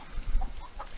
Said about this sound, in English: they're all roosters, every one of them